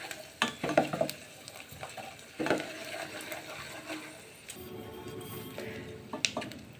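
Gond, edible gum, frying in ghee in a pan, with bursts of sizzling and crackling and the scrape of a stirring spoon against the pan, close and fairly loud, no talk.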